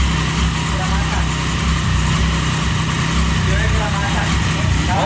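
A Triumph Tiger motorcycle engine runs loud and close with a steady, rumbling drone throughout, people talking over it.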